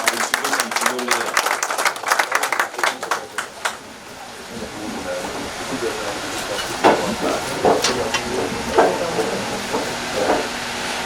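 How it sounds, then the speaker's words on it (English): Audience applause and clapping for the board members at the launch of a community urgent care and mental health clinic. A dense burst of many hands clapping fills the first seconds, then fades into scattered claps and room murmur. "Let's give a round of applause to the board members."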